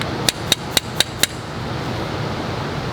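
Hammer driving riser bushings into a Harley-Davidson Road Glide front end, five sharp metallic strikes in quick, even succession, then quiet.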